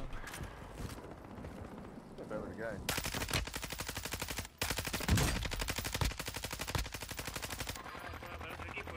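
Rapid automatic gunfire bursts loudly in the video game Warzone, with sustained rattling volleys broken by short gaps and brief talk early on.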